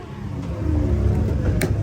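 A Nissan SUV launching in a Dubai half-mile drag race, a loud low engine roar building as it pulls away, heard close and continuous for a couple of seconds.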